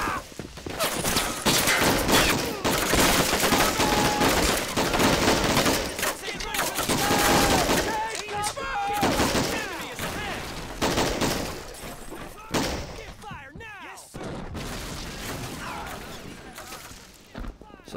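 Dense crossfire rattles through a Men of War World War II battle at Carentan, with sustained machine-gun bursts and rifle shots from several directions, thuds and crashes mixed in, and a voice talking over the din.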